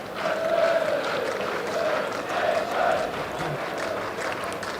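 Steady crowd murmur and chatter fill the stands at a Test match at Trent Bridge, England against New Zealand, with swelling waves of noise and scattered calls rising and falling throughout.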